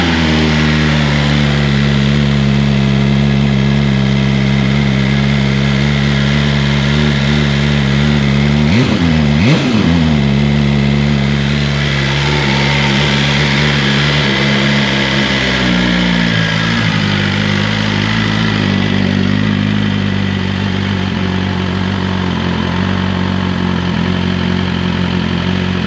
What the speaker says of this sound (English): quickly start her up for you so you can hear the sound of her natural Akrapovic sound